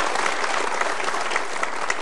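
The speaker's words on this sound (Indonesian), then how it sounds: "Kita berikan tepuk tangan untuk dua orang ini." A studio audience at a motivational talk show claps steadily and densely for about two seconds, bright even applause with no talking.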